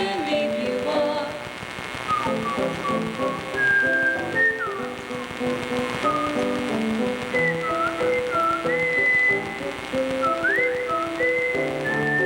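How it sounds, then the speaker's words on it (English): A person whistles a lilting melody over a stage performance of The King and I by a school honors choir and concert band, sliding pitches rising over soft accompanying music and ambient rustle. "Oh, was I whistling?"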